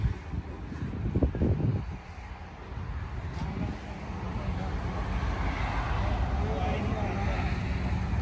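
A manual 4x2 Bolero jeep engine running, a low, steady rumble heard close by over wind buffeting on the microphone, with a few knocks early on and some faint background noise.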